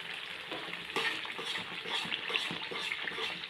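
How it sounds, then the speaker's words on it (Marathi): Dal tempering sizzles hard in hot oil, a dense, steady crackle and hiss at close range that runs unbroken for a few seconds with no talking over it. "असा आवाज आला पाहिजे म्हणजे छान फोडणी आपली बसते."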